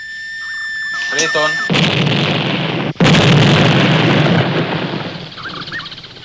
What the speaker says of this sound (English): We make big explosions and listen for the echoes.